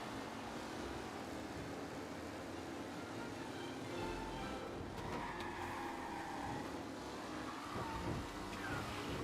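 A car in the game Mafia Definitive Edition drives at speed with a steady engine drone and road noise, then spins out with a burst of tyre screech, loud and continuous.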